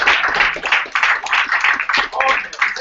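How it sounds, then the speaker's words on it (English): A crowd at a hackathon event claps in a dense, uneven burst of hand claps that rises and dips, with voices mixed in underneath. "One more big applause."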